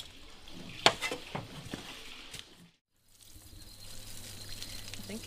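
Creek water lifted by a natural-energy pump pours out in a steady broadband stream near a rainforest, with a sharp splash near the start, a brief silent gap midway, then a continuous trickling flow with a low hum.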